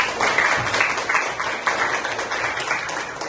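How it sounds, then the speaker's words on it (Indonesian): A classroom gives applause for group 1, a dense patter of many hands clapping together for a few seconds at moderate loudness. "kita berikan aplaus kepada kelompok 1"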